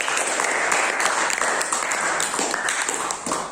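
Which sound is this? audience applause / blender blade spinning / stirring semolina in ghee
audience applause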